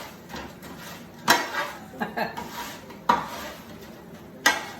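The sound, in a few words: stirring crispy roast potatoes in a pan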